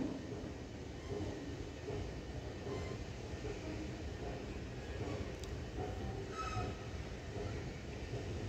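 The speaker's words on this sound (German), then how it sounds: "Keep clear of the doors and take care while the train is departing." A Eurocity train departs Berlin Hauptbahnhof with a continuous low rumble of rolling wheels and faint metallic squeals, heard at moderate distance in a station hall.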